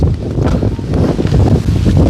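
Steady, loud wind buffeting a microphone, a continuous low rumble with gusty rises and no pauses throughout.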